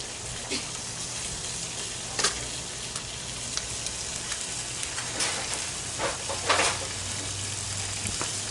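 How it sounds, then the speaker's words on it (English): Spare ribs and onions sizzling steadily on a grill, a loud continuous frying hiss with occasional scrapes and pops as the onions are pushed around. "So now I'm going to spread these onions around a little bit."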